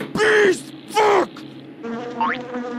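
Loud buzzing of bees in a video game swells in two bursts, followed by a softer electronic buzz with a rising whine.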